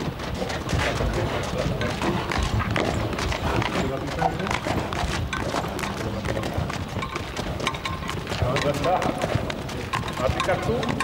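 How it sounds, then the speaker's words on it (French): A picador's horse moves in a bullring during a Victorino Martín bullfight, hooves clip-clopping in quick, busy steps over constant crowd noise and voices. "c'est même Victorino Martin, le fils, qui est monté sur le cheval du picador."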